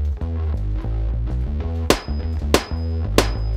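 A hammer strikes a titanium phone screen three times, each blow a sharp, loud crack spaced about two-thirds of a second apart over steady background music.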